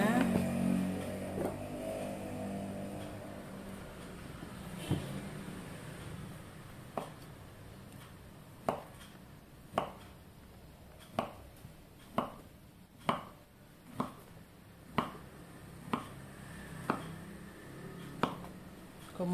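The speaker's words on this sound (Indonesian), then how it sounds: "Yuk, sekarang mau saya iris-iris ya. Ini tempe mau digoreng aja rencananya." Tempeh sliced with a knife on a cutting board, a series of sharp, evenly spaced chopping knocks that grow steadier and close together, following some quieter handling at the start.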